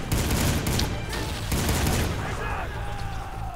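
Machine gun fire in the video game Soldier of Fortune Payback hammers out in loud, rapid continuous bursts, easing somewhat toward the end, with a voice talking faintly underneath.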